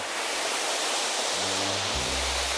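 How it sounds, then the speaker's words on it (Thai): Steady broadband rush of a waterfall in Japan fills the clip, dense and constant, with a low hum shifting underneath. "น้ำตกเปลี่ยนเสียงหรือเปล่าไม่แน่ใจ"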